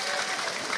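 Audience applause at a live stage event, a dense, steady wash of many hands clapping, loud and close, heard alone for under a second.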